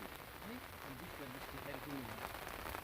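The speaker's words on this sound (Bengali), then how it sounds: "আজকের দিনটা পুরা বৃষ্টি চতুর্দিকে এই যে দেখাইতেছে আপনাদের খালি বৃষ্টি আর বৃষ্টি" Steady rain patters throughout on the Brahmaputra River during hilsa fishing while a voice talks over it, the downpour forming a constant wash beneath the speech.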